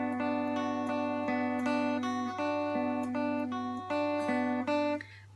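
Notes picked one at a time on the low 6th, 5th and 4th strings of a guitar repeat as a steady riff from a song, clean and close against a constant low background hum.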